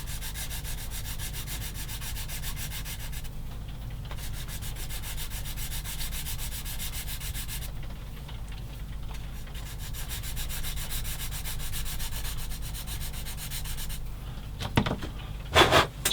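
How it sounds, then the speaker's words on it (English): A part for a 1/16 scale Takom M10 IIC Achilles model tank destroyer is sanded smooth with continuous, close, even rubbing strokes that hold steady throughout. A few louder knocks and handling sounds come near the end. "Just sand it nice and smooth."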